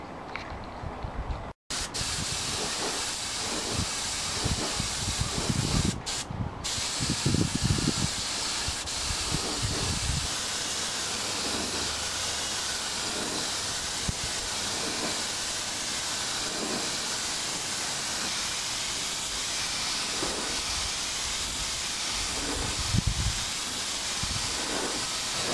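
Steady, close hiss of a spray gun laying paint on Yamaha FZR motorcycle restoration parts outdoors on a cold day, running almost unbroken with a few brief pauses and low knocks underneath.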